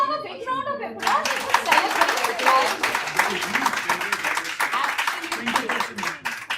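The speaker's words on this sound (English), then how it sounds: "Can we have a big round of applause?" A round of applause at an awards celebration rises after a brief moment of speech, with many hands clapping in a lively patter that holds steady and slowly thins toward the end.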